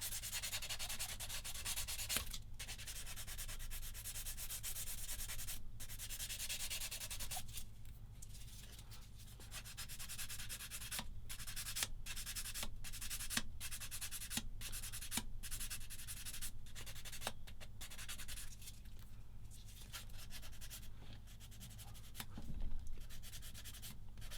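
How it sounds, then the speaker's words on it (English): Sanding a seam line on a Tamiya 1/35 SdKfz 222 plastic model kit: repeated short, rhythmic scratchy rubbing strokes, close and fairly steady, over a low background hum with no talk. "Got to get rid of that seam line."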